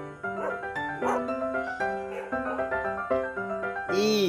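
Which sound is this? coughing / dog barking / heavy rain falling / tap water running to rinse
dog barking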